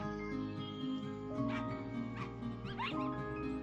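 Rufus the dog whimpers and yips softly in the game Into A Dream, with a few short high cries rising over a steady bed of background music.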